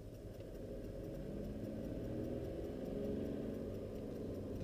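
Close, steady engine note from a Skoda Fabia Combi 1.2 TDI, swelling gently as the throttle is pressed, with a faint regular ticking running underneath.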